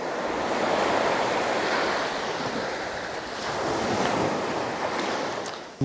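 Sea waves wash steadily up a shore, a broad continuous surf roar that swells and eases over several seconds, with wind buffeting the microphone and no voices.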